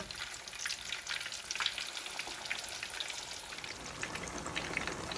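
Cauliflower roast fries in plenty of oil, a dense crackling, spitting sizzle that runs continuously and quite quietly from start to finish with no voices.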